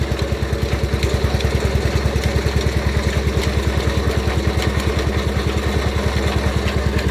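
An Eicher engine drives a belt-powered jaggery (gur) making machine at about 1200 RPM, giving a loud, steady, close-up chugging beat with rapid regular pulses over a low drone and no pauses.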